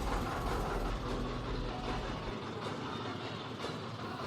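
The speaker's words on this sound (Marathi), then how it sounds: "ह्या मिनी ट्रेनचा प्रवास हा 3 ते 4 मिनिटाचाच होता" A toy mini train carries riders at Elephanta Caves, making a steady, loud rolling rumble with a deep low-end drone that stays constant for several seconds, with no talking.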